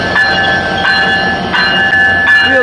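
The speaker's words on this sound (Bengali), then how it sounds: "ইতিমধ্যে যশোর জাংশন রেলওয়ে স্টেশনে আন্তনগর চিত্রা এক্সপ্রেস ট্রেনটি উপস্থিত হলো" Intercity Chitra Express, hauled by a 6332-series locomotive, arrives at Jessore Junction with a loud, close, steady rumble of coaches and ringing tonal squeal from wheels and brakes, and no voices.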